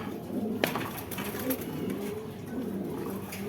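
Pakistani Giribaz pigeons coo softly and repeatedly at a market stall, faint low calls with a sharp click near the start and background noise throughout.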